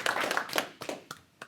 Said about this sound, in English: everyone give Melissa a round of applause for that